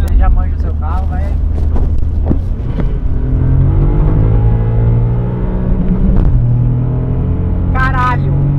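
A Volkswagen up! TSI accelerating hard from a start, its engine a loud steady drone with rising harmonics through the gears, while people talk and exclaim over it inside the car.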